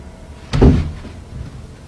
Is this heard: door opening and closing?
yes